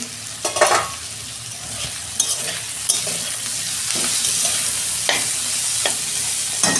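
Teasel gourd curry frying in a pan, with a steady bright sizzle and repeated sharp scrapes of a spatula stirring against the pan, close up and continuous.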